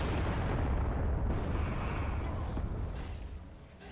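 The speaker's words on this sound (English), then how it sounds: "So you had the explosion" Deep rumbling blast from a cinematic in the video game Guild Wars 2, loud and booming at first, then a long rolling roar that slowly fades, with no voices over it.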